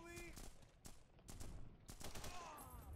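Gunfire in The Punisher video game: a few sharp shots and short bursts crack out at moderate volume, mixed with game sounds and someone talking.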